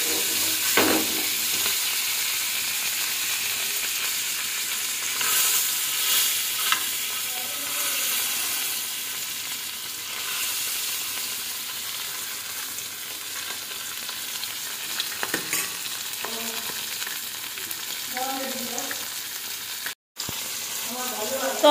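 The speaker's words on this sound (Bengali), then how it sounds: "তো চলো মাছটা ভেজে নিই।" Fish frying in butter in a home kitchen pan gives a continuous, close hiss and crackle that runs steadily, with occasional stirring clatter and a brief gap near the end.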